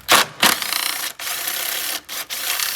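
A ratchet fitted with an 8mm socket loosens a headlight housing bolt on a Ford Taurus, giving close, loud bursts of rapid clicking broken by short pauses, with no talking.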